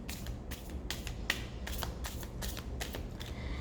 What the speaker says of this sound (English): First I'm going to clear the cards.